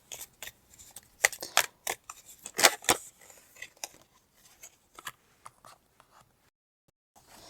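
Tarot cards are handled and shuffled close up in a quiet room, with scattered crisp flicks and slides that come in small clusters and then thin out toward the end.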